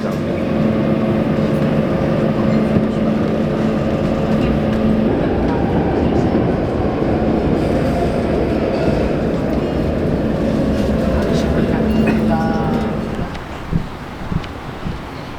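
Subway train ride in Barcelona, with a steady loud rumble of the moving carriage, sustained tonal whine, and rail noise throughout, easing near the end as the train slows.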